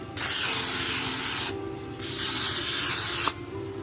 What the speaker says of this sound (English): Now for the scrambled eggs, I'm going to spray it with some Pam.